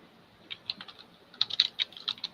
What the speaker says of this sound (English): I still hear someone clicking.